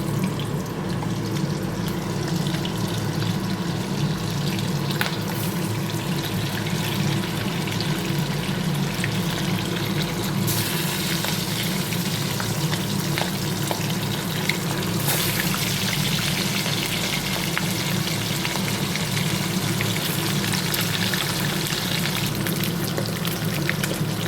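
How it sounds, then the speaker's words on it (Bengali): Fish fry in hot oil in a pan with a continuous crackling sizzle, steady and close, with no voices. "এবারে মাছ ভাজাটা বসিয়ে দেব।"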